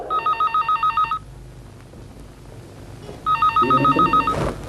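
Telephone bell in a home scene from an old PTV drama, ringing in two loud, close, rapidly trilling bursts separated by a quiet pause of about two seconds.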